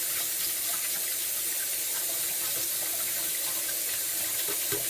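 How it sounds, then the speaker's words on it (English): Water runs steadily from a kitchen tap while hands are washed, making a loud, continuous splashing rush that lasts throughout. "let me wash my hands off real quick here"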